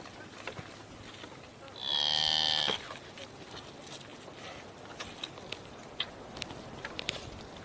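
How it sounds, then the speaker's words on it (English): A single cow in a Mongolian herd gives one clear moo of about a second, mid-distance, against quiet outdoor background with faint scattered knocks and steps. "Can you bring the cows over here?"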